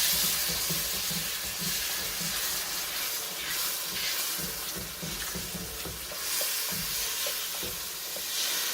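A pot of chili mixture being stirred continuously, a steady scraping swirl with faint bubbling and sizzle underneath, close and moderately loud throughout with no talking.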